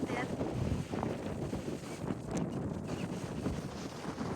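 Strong wind roars and buffets the microphone in a constant low rumble on a seashore during crab fishing, with a voice faintly present beneath the gusts.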